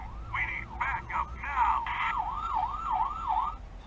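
A toy fire engine's siren yelps quickly in short bursts, then settles into a steady up-and-down wail, close by with background street noise in London.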